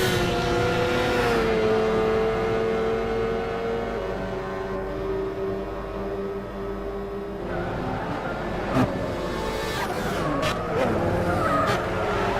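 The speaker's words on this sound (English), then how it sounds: "Here we see turn 1, and Jona went a little too wide, had to lift off from the accelerator" GT300 race cars at turn 1 of an endurance race: a steady, loud engine drone that dips as a car lifts off the throttle, then rises again with tire squeal and passing cars.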